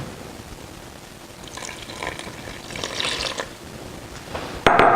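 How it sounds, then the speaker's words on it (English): Boiling water poured into a chocolate cake batter, a soft rising stream of liquid that swells in the middle and ends with a sharp clink near the finish. "I'm going to follow that with some boiling water"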